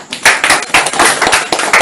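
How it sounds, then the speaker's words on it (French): Congregation at a church service clapping close and loud, brisk rhythmic claps in quick succession with a few sharper accents, no talking over it. "Applaudissez pour le frère."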